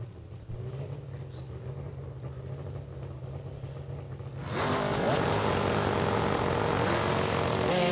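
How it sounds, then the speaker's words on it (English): At a drag-racing event at Lucas Oil Raceway, a dragster and a truck with a small six-cylinder Chevrolet engine idle low and steady, then a loud roar of engines surges up midway and holds. "Rick Brown's truck now chasing, are going to be chased by Ronnie Bond's dragster."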